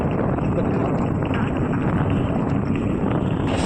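Wind blows steadily and loudly across the microphone outdoors near a train line, a constant broadband roar with no pauses throughout.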